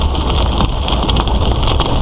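Heavy monsoon rain pounds on a vehicle while driving, a loud dense continuous patter with rapid drumming impacts and a low rumbling road noise underneath, no voices.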